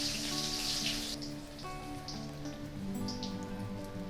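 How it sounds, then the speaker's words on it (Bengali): Cumin seeds, a bay leaf and a dried red chilli sizzle in a small amount of hot oil for a vegetarian palak paneer, giving a steady, fairly loud crackling hiss throughout with no talking. "ফোড়নে একটা তেজপাতা দেব, একটা শুকনো লঙ্কা দিয়ে দেবো,"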